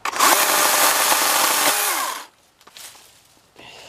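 A Husqvarna 120i battery chainsaw whines loudly at high speed for about two seconds, then cuts off abruptly, leaving quiet with a few faint clatters.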